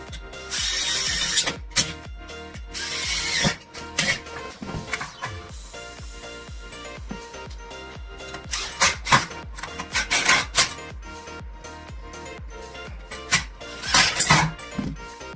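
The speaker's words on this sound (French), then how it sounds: "Visseuse à choc" Impact driver fastening screws into plasterboard boxing on a building site gives repeated short bursts of rattling hammering, mixed with metallic clinks and handling clatter. It is close and has no talk.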